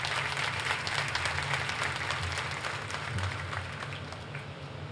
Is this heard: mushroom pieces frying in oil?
no